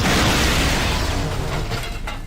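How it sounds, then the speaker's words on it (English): Grenade blast in the video game Kotor 2, a loud broad burst that hits at once and rumbles down over about two seconds. "Iron grenade, go!"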